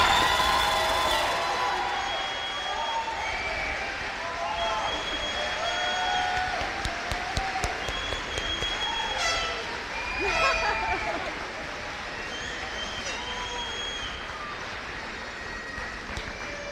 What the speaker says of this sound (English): I'd like to take about 10 seconds just to clap and cheer for some of our favorite kids here